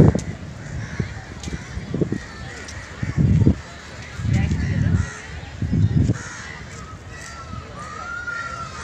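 Crows at the New Delhi zoo caw in several harsh bursts, close and loud, with a person speaking intermittently between the calls.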